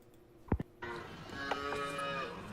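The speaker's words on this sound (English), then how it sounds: "That's a cow that really loves their milk." A cow moos in a long, drawn-out call with a rising, harmonic tone. It starts just under a second in and fills the rest of the clip after a couple of short, sharp knocks.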